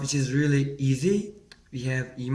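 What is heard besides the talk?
No distinct noise like a dog, phone or traffic.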